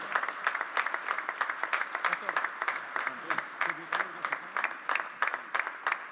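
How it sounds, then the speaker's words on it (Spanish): An audience at a church men's congress claps in a steady rhythm, sharp individual hand claps repeating evenly, with a voice briefly heard partway through. "Lo recibimos con un fuerte aplauso"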